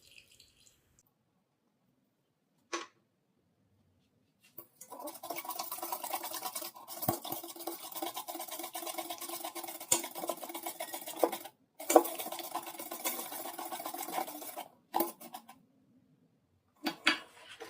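Egg, sugar and oil being whisked together in a bowl for Oujda-style leavened ka'ak dough, giving a steady scraping, clinking mix from about 4.5 to 15 seconds, close and fairly loud with short pauses, and no talking.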